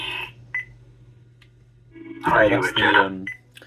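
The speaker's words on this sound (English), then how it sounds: "this one, it's got the beeps and boops as a track" A few electronic beeps and chirpy tones from a Proffieboard neopixel lightsaber's sound font, then a short burst of warbling, robot-like bleeps and boops, fairly close and moderately loud.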